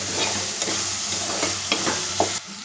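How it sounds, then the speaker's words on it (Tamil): Ground masala being stirred into fish curry (fish kulambu) in a pan, a steady wet sizzle with a few scraping spoon strokes, close and alone, cutting off near the end. "இப்போ அதை நல்லா மிக்ஸ் பண்ணி விடலாம்."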